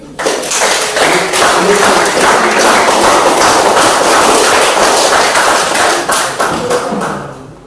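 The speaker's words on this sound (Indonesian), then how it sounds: "Kita beri tepuk tangan dulu untuk kelompok 3." Sustained applause from a classroom audience for a student group that has just finished presenting, loud and dense, filling the whole stretch with steady clapping.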